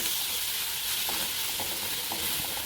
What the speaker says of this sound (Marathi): हे तिखट आणि हळद मेथीच्या भाजीत छान मिक्स करून घेऊया